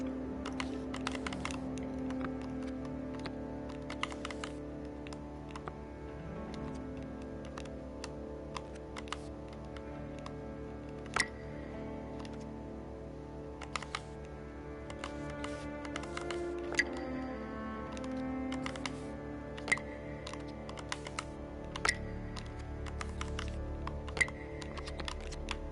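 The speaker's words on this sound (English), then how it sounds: "They definitely added those sound effects for the like puzzle pieces clicking into place" Crisp, clicking puzzle-piece sound effects from the video game Braid, short ticks scattered irregularly over a steady layer of soft background music, with a few louder clicks standing out near the end.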